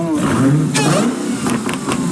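A supercharged Dodge Hellcat engine revs loudly up and down close by, with a throaty roar and a rising supercharger whine riding over it.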